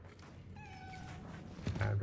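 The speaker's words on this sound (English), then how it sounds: "Was that cat?" A single drawn-out cat meow sounds in the video game Cronos The New Dawn, fairly faint and mid-distance, heard over low rumbling ambience with a muffled thump near the end.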